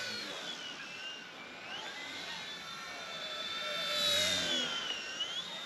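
A budget RC aircraft's small electric motor whines in the air, a thin high-pitched buzz that wavers in pitch as it flies and swells briefly louder near the end, heard alone without talk.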